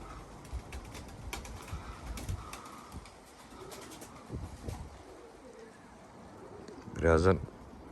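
Pigeons cooing in a loft, soft low coos scattered through the clip with a louder close coo near the end, while people talk quietly in the background.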